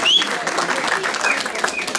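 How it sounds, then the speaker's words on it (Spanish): Guests applaud at a wedding in a church setting, with a brief steady patter of clapping from a group. Voices and a whistle-like tone are mixed in. "demos un fuerte aplauso."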